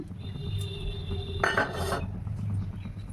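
A bowl clinks against metal pots and utensils in a kitchen while water is measured out for cooking, a short bright cluster of clinks over quiet background.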